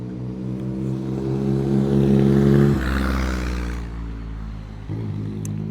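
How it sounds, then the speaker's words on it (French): A motorcycle engine drones nearby, swelling as it passes and then fading away, with a steady low hum throughout. "Attends, qu'il y ait la moto qui passe."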